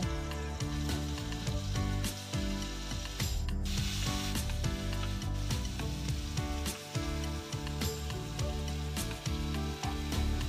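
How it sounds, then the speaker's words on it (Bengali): Paneer fries in white oil in a hot frying pan with a steady, close sizzle that runs throughout, along with clicking, rattling crackles and a constant tonal background. "3 চামচের মতো সাদা তেল দেবো, দিয়ে সবার প্রথমে পনিরটাকে হালকা করে ভেজে তুলে নেব"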